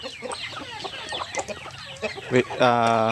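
Several chickens cluck nearby in a busy jumble, ending with a rooster's loud, drawn-out crow.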